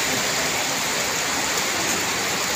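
Heavy rain drums steadily on a roof, a dense, constant hiss of drops with no pauses and no talk.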